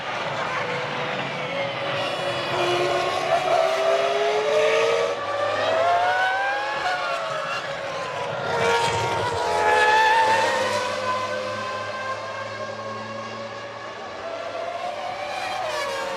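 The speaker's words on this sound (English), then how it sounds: "there is the Ferrari of Michael Schumacher, followed by Mika Hakkinen" Formula 1 race cars at the 2000 Belgian Grand Prix at Spa, engines screaming and shifting pitch as they pass, loud and continuous throughout.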